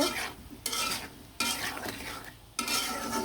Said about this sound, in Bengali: দিয়ে ভালো করে কিন্তু সবজিগুলো কষিয়ে নিব